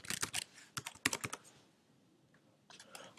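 Quick bursts of typing on a computer keyboard on a Mac, close and crisp clicks in two clusters separated by a short pause, then resuming.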